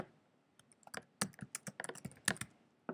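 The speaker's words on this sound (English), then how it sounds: "Now I'm going to type my name." Typing on a computer keyboard while filling in a Google Doc, a close run of quick, irregular key clicks and taps, no talk.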